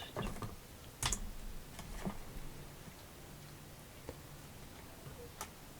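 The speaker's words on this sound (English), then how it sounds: "open a browser and type it in there, paste." Computer keyboard typing, a few scattered keystrokes and short bursts, fairly faint and close, with no talking.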